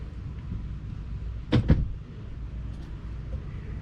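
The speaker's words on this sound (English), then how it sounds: "Why don't you close the door?" A door swung shut indoors in a workshop-like space, giving a couple of quick thuds close by over low room hum, with no talk during the closing.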